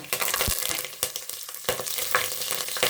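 Spicy masala crackles and sizzles loudly in hot oil, with a continuous close frying hiss broken by several sharp stirring scrapes and knocks against the pan.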